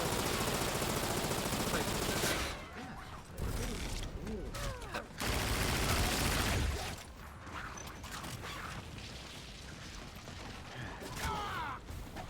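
Machine gun fire from the shooter game Infinite Warfare, loud bursts in dense rapid volleys broken by brief pauses and mechanical clatter, with someone talking over the action.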